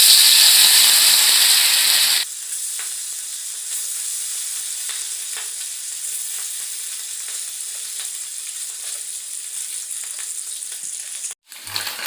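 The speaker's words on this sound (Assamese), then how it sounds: "এতিয়া মাছ দিওঁ তেলত।" Fish hits hot mustard oil in a wok with a loud hissing burst that settles into a steady, close sizzle with light popping, broken by a brief clatter at the end.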